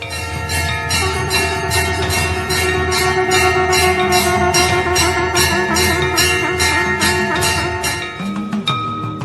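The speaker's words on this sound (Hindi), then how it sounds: "शंखनाद, घंटी की आवाज।" Temple bells ring in a dense, continuous metallic clangour with sustained tones, likely blended with a conch, during a grand Maha Kumbh ritual; loud and steady throughout, with no talk.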